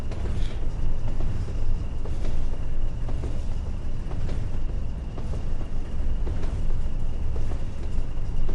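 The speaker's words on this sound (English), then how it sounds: "I will begin braking now" BR Class 20 diesel locomotive slowing under braking in Train Sim World 5 on the Tees Valley Line, a steady heavy low rumble and roar with faint squeals, continuous and loud throughout.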